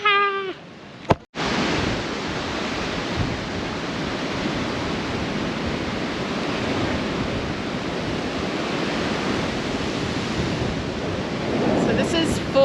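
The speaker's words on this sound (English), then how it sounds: "So this is 4 Mile Beach at Port Douglas." Surf rolling onto Four Mile Beach at Port Douglas, a continuous loud roar of breaking waves after a brief sharp sound at the start, steady and near, with no voices.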